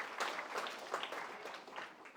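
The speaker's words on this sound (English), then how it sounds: "give yourselves a big round of applause for choosing to be here this morning" A morning summit audience of young people breaks into steady applause, a dense continuous patter of clapping heard from a distance and fairly faint, with no voices over it.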